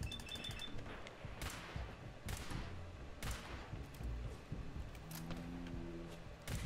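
Gunfire from the video game Fallout 4, a rapid scatter of sharp, mid-distance shots and thuds through a busy game mix. A few tonal effects come in near the end.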